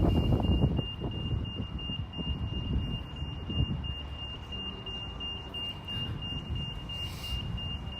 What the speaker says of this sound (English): It's got the reverse beeping going on.